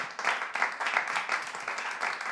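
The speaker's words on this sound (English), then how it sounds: "Give him another round of applause" An audience claps for a comedian at an open music session, a dense steady patter of many hands, moderately close, with no voices over it.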